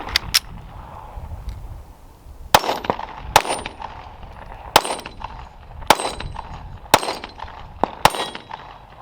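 A Glock 43X MOS pistol fires a string of sharp, loud shots, about eight cracks spaced roughly a second apart, each with a ringing metallic tail, and no talking.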